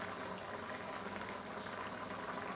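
Red curry with pumpkin and pork belly bubbles in a pot, a dense continuous rolling boil heard close and steady throughout.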